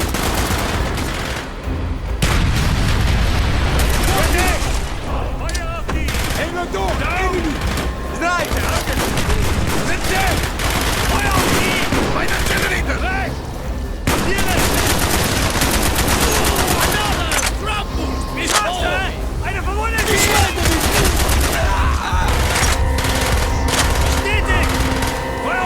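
Dense combat in the Call of Duty Black Ops mission Project Nova: relentless rapid gunfire, bursts of automatic weapons and heavy mortar booms, loud and layered, with shouted voices mixed in.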